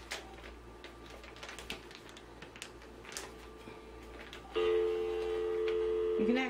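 A phone sealed inside a plastic bag gives off a muffled, steady tone that starts partway through, after a stretch of soft tapping and handling sounds, with low background hum throughout.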